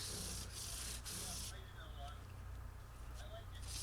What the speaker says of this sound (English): I go ahead with 220 grit sandpaper all the way up through 2000